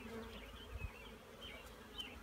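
Honey bees buzz around an open hive, a steady, soft droning hum with a few closer passes by individual bees, outdoors.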